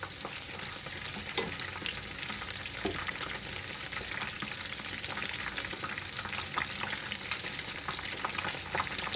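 Chicken wings marinated in fish sauce sizzle and crackle steadily in plenty of hot oil, a dense, continuous frying hiss with occasional stirring, close and even throughout with no talk.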